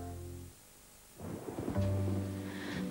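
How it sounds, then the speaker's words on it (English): Rain and a low rumble of thunder from a TV advert, quiet at first and then a rolling, swelling rumble with a soft hiss of rainfall beneath a faint musical tone. "Pitter-patter, falls the rain."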